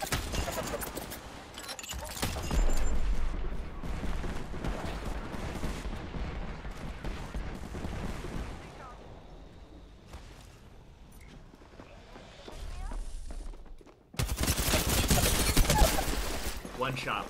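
Rapid gunfire bursts from a first-person shooter video game on a PC with an RTX 3070 Ti and liquid cooling, loud and dense with shots and impacts, fading briefly mid-clip before a sharp, heavy barrage returns near the end.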